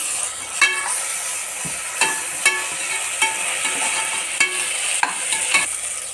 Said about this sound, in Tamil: அதோட இஞ்சி பூண்டு பேஸ்ட் கொஞ்சம் நல்லா வதங்கட்டும்